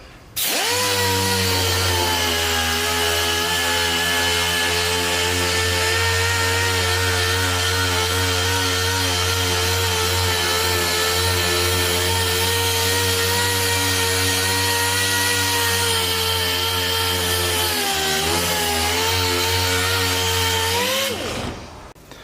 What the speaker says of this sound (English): I'm going to start sanding it with 220 and go from there.